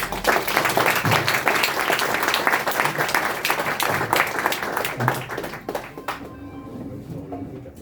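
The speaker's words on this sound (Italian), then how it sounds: "Facciamo un applauso a" Applause from an audience at an Italian lecture on Venetian and Genoese colonies, a sustained patter of many hands at moderate volume, thinning toward the end as the clapping dies away and a faint voice emerges.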